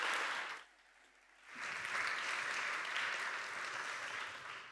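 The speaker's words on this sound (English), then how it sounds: "I would like to have a big round of applause for Dr. Hannes." A conference audience claps for a speaker being called to the stage, a brief burst, then a short dip, then a longer sustained round of clapping that tapers slightly at the end.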